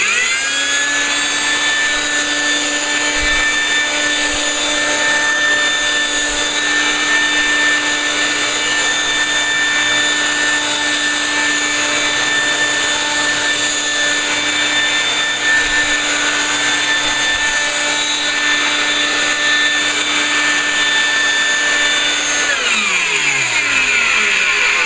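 Electric leaf blower clearing leaves, a loud steady high whine with a strong tonal hum, running continuously for over twenty seconds before winding down at the end.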